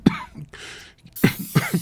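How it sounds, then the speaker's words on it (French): A short fit of several sharp coughs, close and loud, in quick bursts with a brief throat-clearing between them, and no speech. "je vais tousser"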